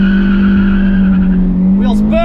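Nissan 350Z launching hard with wheelspin: a loud, sustained engine drone holds a steady pitch close by, and a rising tone sweeps in near the end as the car pulls away.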